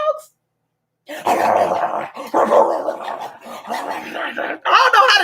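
A person imitates dogs barking with a series of rough, voiced bark-like bursts, close and fairly loud, broken by short pauses.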